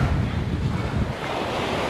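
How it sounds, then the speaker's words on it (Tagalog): Strong wind buffets the microphone at a beach where people are swimming, roaring over the steady rush of surf and breaking waves, loud and continuous with no talk. "Malakas ang hangin."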